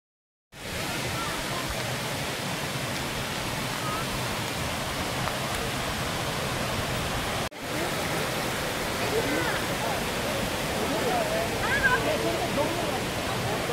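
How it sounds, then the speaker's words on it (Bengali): Water pours steadily over the top of a waterfall at Mainpat in Chhattisgarh, a continuous broadband rush heard close up from above, with one brief dropout midway before the roar resumes unchanged. "এই উপর দিয়ে যে জল পড়ছে"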